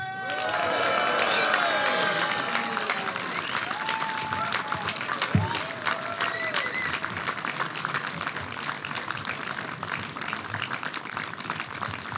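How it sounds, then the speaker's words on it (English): A crowd applauds a winner at the 8mR World Cup 2025 sailing prize-giving, the dense clapping loudest at first and then holding on, with a brief low thump partway through. "Big applause."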